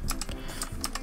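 Typing on a computer keyboard while entering text in a graphics program, a quick run of crisp key clicks in uneven bursts, close and steady with no talking.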